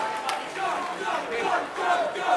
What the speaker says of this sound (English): can we have a massive round of applause for both of these men?